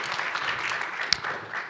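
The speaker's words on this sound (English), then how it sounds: "So big applaud because it's morning and we need more energy." Morning audience at a software testing talk gives a short round of applause for the next presenter, a dense clapping wash with one sharp close clap standing out.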